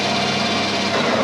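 A lathe machining a plastic .22 bullet die, spinning at 1000 RPM and cutting steadily, with a constant loud whine and no break or voices over the short stretch.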